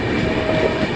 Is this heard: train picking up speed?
yes